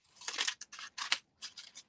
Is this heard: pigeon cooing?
no